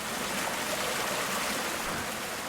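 Rushing river water for a horror audio drama, a dense, steady broadband roar of fast-flowing current, close and loud without pause, with no voices over it.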